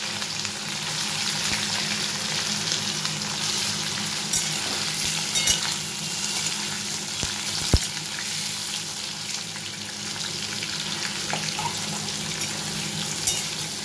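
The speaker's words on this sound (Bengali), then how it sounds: "এবার পনিরগুলো আমি ভেজে নিচ্ছি।" Paneer pieces fry in white vegetable oil with a constant, even sizzle, close by. An occasional sharp tap of a utensil against the pan stands out from the hiss.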